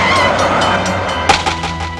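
A Metro Blue Line light rail train weighing over 100 tons rolls past with a loud, steady rumble and rattle, a sharp metallic clank breaking through partway.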